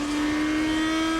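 GP2 race cars at the Nürburgring, 2006, with steady high engine whine from one or more cars at speed, loud and continuous for a brief moment without pause.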